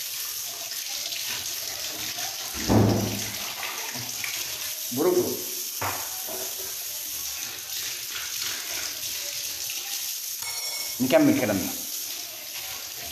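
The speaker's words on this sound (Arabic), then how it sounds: "كده خلصنا اول حاجه وهي غسل الكوبايات" Tap water runs into a kitchen sink while tea glasses are washed, a steady splashing stream with a few louder clatters, under someone talking.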